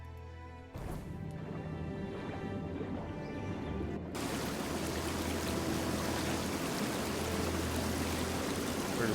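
Waterfall water from the video game Tainted Grail: Fall of Avalon, a steady broadband rush that begins faintly and swells to a loud, continuous roar after a few seconds, with no talking over it.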